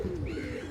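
Karna high-flyer pigeons coo in a steady, close, low murmur that stays even through a brief moment with no other sounds.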